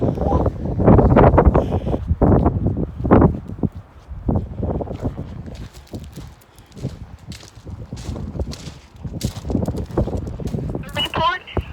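Strong wind storm gusts roar across the microphone in loud, buffeting surges, easing briefly in the middle before building again, with rustling and flapping noise throughout.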